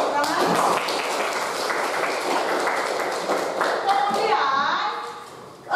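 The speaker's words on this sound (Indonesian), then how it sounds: "Tepuk tangan." Students in a classroom lesson on viruses give a dense round of clapping that stays loud and busy, mixed with voices, before tapering off near the end.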